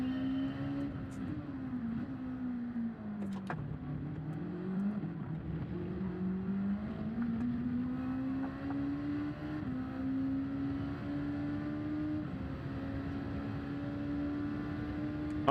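A Nissan GT-R race car in Gran Turismo 7 holds a steady droning engine note that dips briefly, then climbs gradually as it accelerates, close and continuous, with no talking.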